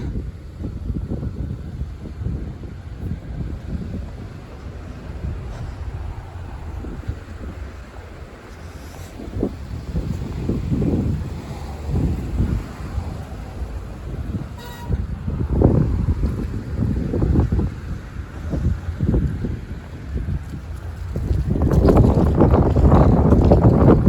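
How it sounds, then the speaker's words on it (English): Gusty wind buffets the microphone in low rumbling bursts on Yonge Street in Midtown Toronto, growing stronger toward the end, with faint traffic-like noise in the background. "So windy,"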